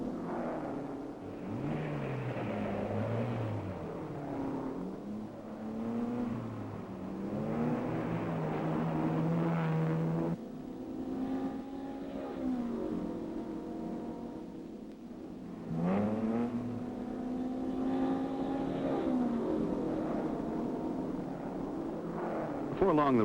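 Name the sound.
1961 Ferrari race cars racing at the Grand Prix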